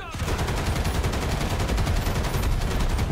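Loud, continuous battle noise from War Thunder tank combat with a T-80UD, dense gunfire-like bursts and rumble filling the whole stretch without a single clear isolated cannon boom.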